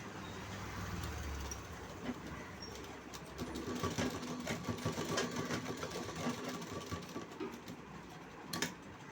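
A sewing machine runs a straight stitch along a folded blouse hem, its rapid mechanical whirring and clatter continuing steadily up close, without speech.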